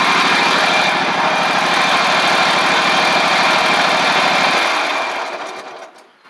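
Briggs OHV engine on a Ferris stand-on mower running on one cylinder, a loud steady rough drone nearby that winds down and stops near the end.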